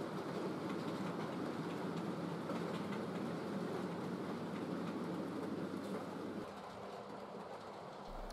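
A model railway A1 locomotive hauls the Northumbrian train northwards, giving a steady, continuous rolling rumble with faint wheel clatter that eases slightly near the end.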